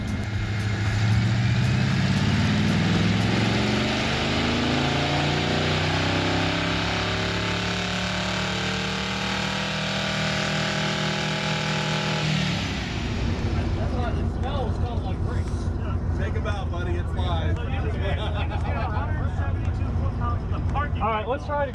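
A Ford Fairmont with a Ford 302 V8 and a bypass fuel system runs hard on a dyno, its loud engine note climbing steadily through a gear for about twelve seconds before cutting to a lower rumble, with voices talking over it afterward.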